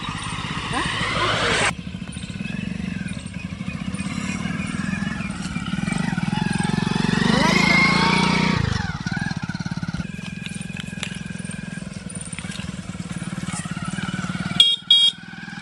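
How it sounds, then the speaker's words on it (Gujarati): A motorcycle engine idles and revs close by for most of the clip, a steady rumbling drone that swells and eases, with brief shifts near the end. "બાઈક બંધ કરો"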